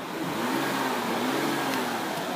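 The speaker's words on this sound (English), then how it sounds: "Engine sounds good and strong." A 2006 Ford Fusion SEL with a V6 engine runs steadily up close, a continuous mid-pitched engine hum with a slight rise in revs, heard alone.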